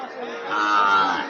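A Sahiwal bull calf moos at a busy Joypurhat cattle market in one long, steady, drawn-out call with a rising middle, close and clear over a faint murmur of the crowd.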